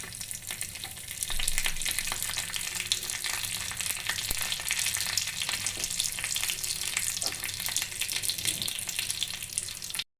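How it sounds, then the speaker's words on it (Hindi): Mustard seeds, a dried chili and curry leaves crackle and sizzle loudly in hot oil for a coconut chutney tempering, a continuous dense frying hiss with scattered pops throughout. "इसमें डालूंगी मैं थोड़ी राई और एक सूखी मिर्च और कड़ी पत्ता।"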